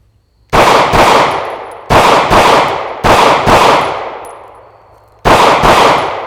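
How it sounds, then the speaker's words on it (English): Staccato pistol shots fired in quick bursts to empty a magazine: loud, sharp reports in pairs and triples with ringing decay, a pause between groups, and no talking. "finish that mag off real quick"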